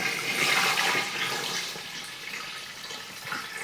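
Water poured from a tap into a pot for ham shank stock, a steady soft rushing stream, close and fairly quiet, with no talking.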